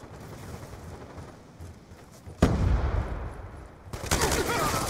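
A frag grenade detonating in the shooter Black Ops 2, a sudden loud blast midway followed by a second burst of explosive noise and gunfire against quieter game ambience.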